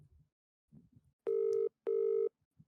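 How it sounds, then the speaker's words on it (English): Two steady, loud electronic telephone tones sound in a row, each about half a second long with a short gap between, standing alone with faint murmuring before them. "for audio listeners, that's Kobe's dial tone."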